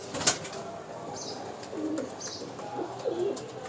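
Pigeons at a pigeon market, with soft low cooing and brief bursts of flapping wings close by, plus a sharp chirp near the start over a busy background murmur.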